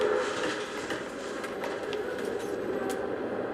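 A train in the video game BATDR rumbles steadily with a low rolling clatter, moderately loud and continuous, with faint higher clicks scattered through.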